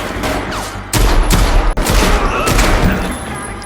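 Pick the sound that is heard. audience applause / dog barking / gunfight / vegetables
gunfight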